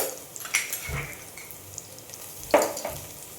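Garlic goes into a hot pan of onions for a Gujarati-style corn curry, giving soft sizzling and a few stirring scrapes and clinks, quiet and intermittent.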